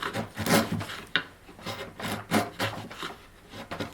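Chisel pares wood out of a saw kerf in a depth stop dozuki cut, giving close, dry scraping and rasping strokes in an uneven rhythm, with one sharp crack partway through.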